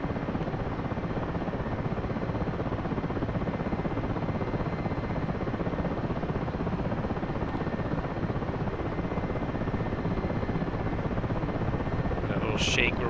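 A helicopter in a flight simulator game drones with a steady, dense rotor and engine roar that stays loud and unbroken throughout, with a brief higher sound right at the end.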